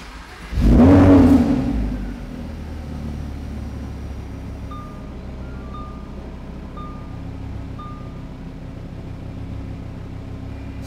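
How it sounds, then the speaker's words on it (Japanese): A 2017 Lamborghini Huracán LP580-2 Spyder engine fires up with a loud, brief roar, then settles into a steady low idle rumble that continues alone. "ではエンジンを始動していきます。"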